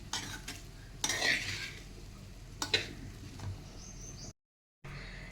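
Cooked rice is stirred and mixed with noodle masala in a pan off the heat, making soft scraping and clinking spoon strokes at low volume, with a brief silence near the end.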